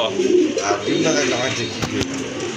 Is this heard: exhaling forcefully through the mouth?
no